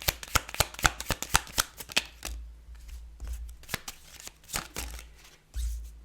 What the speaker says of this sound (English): I want to pull a few cards to see what the tarot has to say to us about